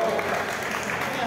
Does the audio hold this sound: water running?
no